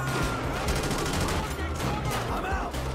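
Modded MP submachine gun in GTA 5 firing in a dense, steady burst of rapid shots under a constant game soundscape, a voice speaking over it.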